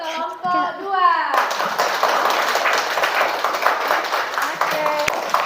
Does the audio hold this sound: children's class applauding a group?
yes